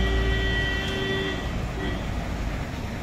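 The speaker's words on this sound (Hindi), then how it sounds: "तो फिर अभी हम गाड़ी घुमा रहे हैं, यहाँ से घुमाएंगे गाड़ी" A Tata truck maneuvering to turn around at a cement factory in Shillong, its engine rumbling steadily with a sustained tonal whine and faint traffic-like background noise throughout.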